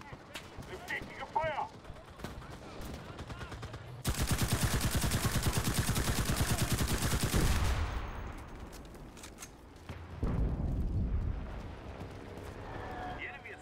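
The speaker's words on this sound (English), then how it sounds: "Artillerie unterstützung!" Artillery strike in the World War II shooter Enlisted, Normandy campaign: a dense, roaring barrage of rapid blasts and gunfire lasting several seconds, then fading into scattered battle noise, with shouted voices before and after.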